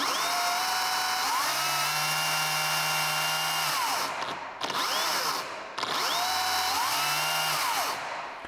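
Makita cordless chainsaw running at an adjustable slow speed, whining motor revving up and winding down in repeated bursts with brief pauses, close and steady.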